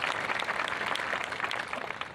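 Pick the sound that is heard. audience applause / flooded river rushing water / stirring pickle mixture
audience applause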